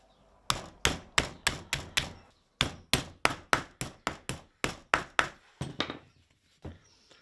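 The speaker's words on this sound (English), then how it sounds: "I'll hammer it ever so slightly into shape" A hammer strikes steel sheet being bent into a small hat-shaped cover for a portable garden oven, about twenty sharp, close metallic blows in quick rhythmic bursts with a short pause midway.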